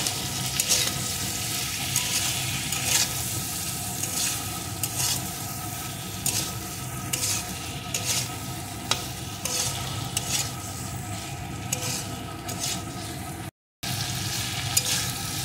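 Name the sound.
papaya being sautéed with spices in a pan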